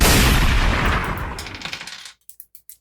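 Gunfire sound effect during a tabletop role-playing game session: a dense, loud burst of rapid shots trails off, followed by four sharp, separate reports spaced out after a brief silence.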